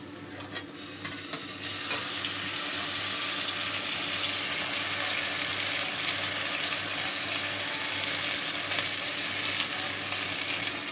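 Ground spice paste frying in a hot pan, a loud, dense and continuous sizzle that swells just after the paste goes in and then holds steady, close up and without talk.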